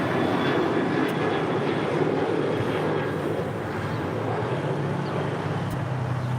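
An Alaska Airlines Boeing 737-800 departs LAX, a steady, fairly distant jet engine rumble and whine that holds at moderate loudness throughout the short stretch.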